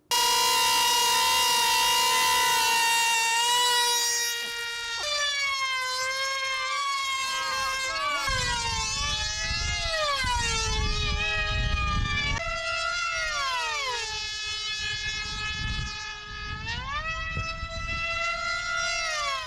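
A composite F3D racing model plane, 1.8 m span, with a combustion engine, screams past with a piercing, high, harmonic-rich whine. Its pitch dips sharply and rises again over and over as it repeatedly passes close by.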